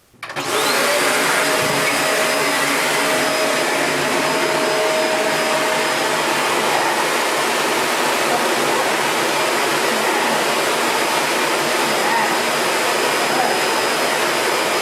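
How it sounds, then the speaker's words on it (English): A vacuum cleaner switches on and roars steadily at close range, a loud continuous rushing hum with a faint whine on top. "turn the vacuum on just for a moment and then turn it right back off"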